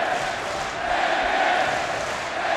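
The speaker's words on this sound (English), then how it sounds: "Listen to this crowd." A wrestling arena crowd at a pro wrestling event roars in a dense, sustained wash of cheering and shouting, steady and loud with no speech over it.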